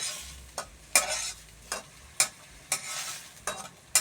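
Chinese sausage cooks in a pan of plain water, with sharp, close spatula scrapes recurring every half second or so over a soft bubbling sizzle, and no one talking.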